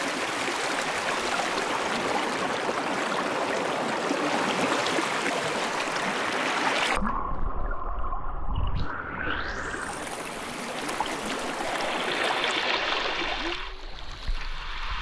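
A small mountain stream flows and babbles with a loud, steady rushing close by, then the sound cuts off abruptly partway through to a quieter scene.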